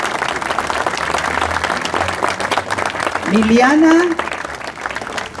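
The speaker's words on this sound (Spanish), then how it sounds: "Aplausos para las personas," Audience applause at a 15th-anniversary celebration for the museum in Arroyito, steady clapping from a crowd running underneath a speaker's amplified voice as names are read out.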